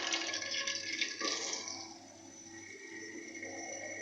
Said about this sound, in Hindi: हम अपने आलूओं को डाल रहे हैं